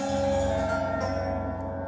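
Untuned Grotta Sonora harp bowl with strings being plucked, a dense sustained metallic wash of ringing, slightly clashing tones, steady and fairly loud with no talk.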